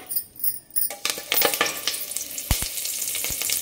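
Curry leaves, whole spices, cashews and onion fry in oil and ghee for tomato rice, crackling and sputtering up close with a few sharp clinks of a utensil against the pan.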